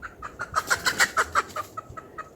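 A chicken clucks in a rapid, rhythmic series of about a dozen close, moderately loud calls that swell and then trail off, heard alone without talk in an outdoor setting.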